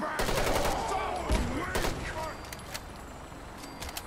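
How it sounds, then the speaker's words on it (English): Gunfire from a vertibird aircraft companion in Fallout 4: a quick run of rapid shots early on, then scattered single cracks trailing off, moderately loud under a voice talking. "my vertibird companion's finally shooting"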